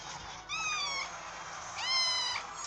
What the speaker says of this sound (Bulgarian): Тъпата ми котка.